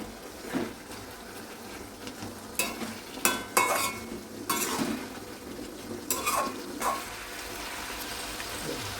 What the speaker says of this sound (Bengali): দিয়ে একটু উল্টিয়ে পাল্টিয়ে নেড়ে নেব